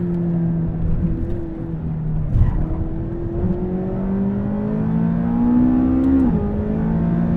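A McLaren 570S sports car engine revs steadily and climbs in pitch as it accelerates on a track, loud and continuous with a rising whine throughout.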